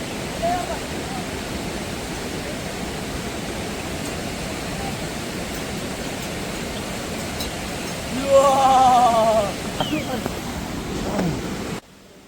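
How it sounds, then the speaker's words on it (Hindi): Himalayan waterfall on the Hamta Pass trek, a steady broadband roar of falling water running throughout, with a brief louder burst of other sounds near the end before it cuts off. "इस ट्रैक के हर एक मोड़ पे हमें खूबसूरत झरने को क्रॉस करके आगे बढ़ना होता है।"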